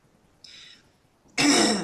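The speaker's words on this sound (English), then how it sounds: "Like I can't. I'm coughing." Two short, harsh coughs close to the microphone, the second louder and rougher, separated by a brief pause.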